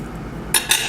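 A butter knife slices through buttery grilled cheese toast on a plate, two short crisp scraping crunches late in a quiet moment.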